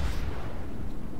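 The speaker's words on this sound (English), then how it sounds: "I've got my secondaries trained on the Wicks to shoot him." Secondary guns of the battleship Arkansas firing in the naval combat game World of Warships, a loud, deep booming rumble filling the whole short stretch with no voices.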